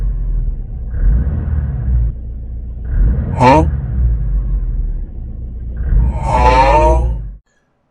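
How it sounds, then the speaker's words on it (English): Loose clutch in a car banging and rattling with a low, rough rumble that swells and fades in several bursts, loud and close, with a person speaking briefly between them. "So that noise that you're hearing is just the clutch banging around"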